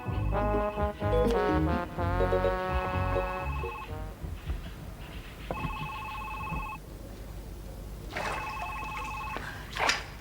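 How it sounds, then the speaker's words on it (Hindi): An old-fashioned telephone bell rings in bursts, three separate rings with pauses between them, set against a room in a classic drama scene and a faint background score. "हम टेलीफोन सुनकर आते हैं।"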